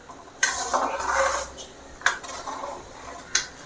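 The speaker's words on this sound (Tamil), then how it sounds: "அப்படியே ஒரு மூடி போட்டு மூடி விட்டுடலாம்" A lid is set down onto a cooking pan of rava kesari, making a few sharp metallic clanks with short clattering rattles between them.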